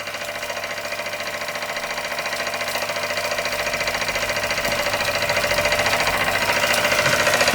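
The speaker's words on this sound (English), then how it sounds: "the little Kassner engine running under steam for the first time since I got it" Kassner vertical boiler model steam engine running under steam, a rapid steady mechanical chuffing and ticking rhythm, close and continuous, gradually swelling slightly louder.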